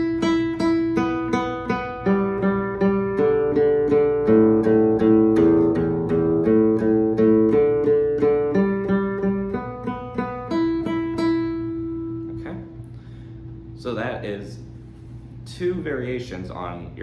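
Close, clear flamenco guitar notes picked in a steady picado finger-alternation exercise, a run of evenly spaced single notes for about twelve seconds, then a few sparser notes with some talking near the end.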